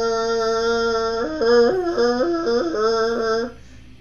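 A melodic tonal line with sustained, shifting notes over a steady drone plays alone, then cuts off near the end.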